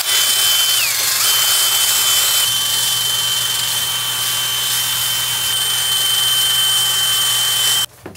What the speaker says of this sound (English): now I'm just giving it a clean with a steel brush on a drill